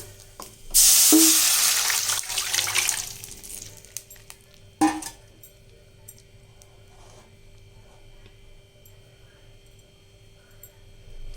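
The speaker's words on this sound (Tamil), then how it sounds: "இந்த ரசம் கூட்டி வச்சுக்கிறத இதில் ஊற்றிடலாம்." Rasam is poured into a hot oil tempering, setting off a loud burst of sizzling that fades, followed by a clank and a quiet simmering hum.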